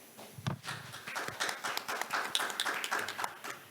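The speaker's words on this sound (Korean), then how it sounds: "좋은 발표해주신 회장님께 다시 한번 큰 박수 부탁드립니다" Small audience applauding after a presentation at an expo event, a quiet patter of scattered claps that builds into irregular, faint clapping from a modest crowd.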